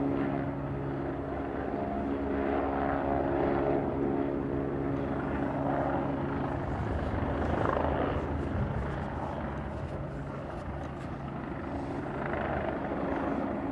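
Aircraft taking off from runway 28 right at Dublin Airport, a loud continuous engine roar and droning hum that swells slightly midway, heard from outdoors without talking.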